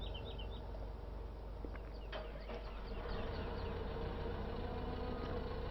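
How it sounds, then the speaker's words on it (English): A tractor engine idles in the Farming Simulator 2015 game, a steady low rumble running throughout with faint bird chirps and small clicks over it. "I see this tractor is now stood idle"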